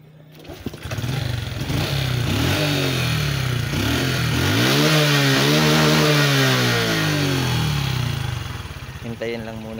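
A Honda XRM 125 motorcycle engine, just after an ECU reset, starts up and runs loudly close by, its pitch rising and falling through several revs before settling, with voices talking over it.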